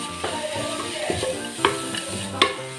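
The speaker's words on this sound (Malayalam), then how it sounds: "ജസ്റ്റ് ഒന്ന് ഇളക്കി കൊടുക്കാം." Home-ground garam masala is stirred into a sizzling pan for carrot chicken pulao: a steady fry hiss with a few scraping stirs of the spoon.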